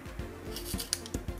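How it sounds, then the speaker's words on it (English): Potatoes are peeled by hand in a home kitchen, producing a string of short scraping and rasping strokes, several close, crisp scrapes a little under a second apart with faint clinks, and no voices. "Now there's only five potatoes, see, peeling potatoes."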